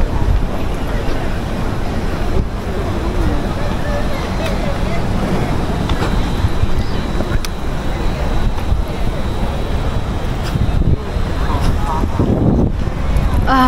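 Steady outdoor wind at Merlion Park, Singapore, buffeting the microphone, a continuous broadband rush with water and engine-like rumble underneath, voices faintly mixed in.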